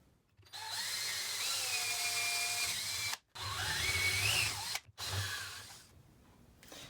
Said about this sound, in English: I'm gonna drill a hole right in here.